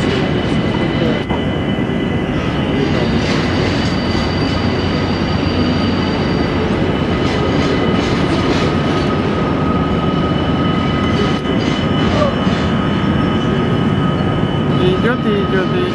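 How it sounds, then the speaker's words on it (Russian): A very long freight train grinds through a spiral tunnel in the mountains of Yoho Park, British Columbia, giving a continuous broad rumble and rattle for the whole stretch, with voices faintly underneath. "Прикинь, такой огромный поезд по горам, где такие уклоны."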